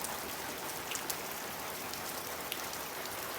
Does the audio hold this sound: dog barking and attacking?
no